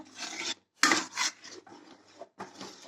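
Banana payasam being stirred in a pan on the stove, a spoon scraping and rasping around the sides in several short bursts separated by brief pauses, close and fairly loud with no talking.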